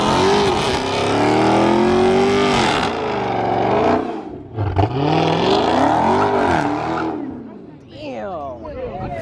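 A Mustang engine revs hard and accelerates with a loud, rising and falling roar, while people's excited voices carry over it outdoors.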